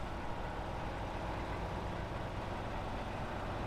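Heavy Pacific P512 PF truck engine in SnowRunner drones loudly and steadily, a dense continuous low roar without clear rises in pitch, no speech over it.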